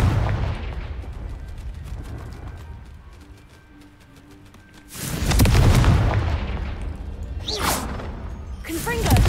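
Confringo fire spell blasts in Hogwarts Legacy: a crackling burst dies down, then a loud booming impact hits midway and is followed by sharp whooshing bursts, with combat noise throughout.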